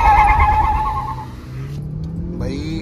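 An old and a new Maruti Swift accelerate side by side in a drag race, with a steady loud engine drone and rising whine from the launch onward and no talk.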